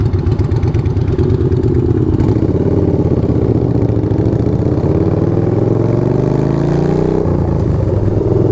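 A Yamaha R7 sport motorcycle engine idles steadily and loudly up close, with a slight rise in pitch toward the end as the throttle is blipped.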